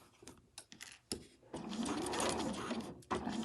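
A sewing machine back stitches on an overlocker cover, with a few soft mechanical clicks first and then a short steady run of stitching, fairly quiet and close.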